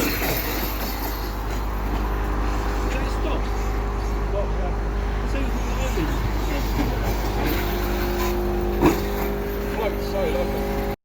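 An Arrma Kraton RC car on stock gearing drives nearby with a steady electric motor whine and drivetrain hum over a constant low rumble, under outdoor talk.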